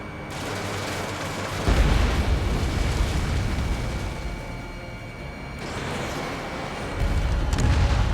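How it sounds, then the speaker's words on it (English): Missile launch and explosion in Ace Combat 7 Skies Unknown, a loud roaring rush of combat noise with deep booming swells that surge, ease off and surge again, heard without speech. "Enemy bomber destroyed. Missile launched."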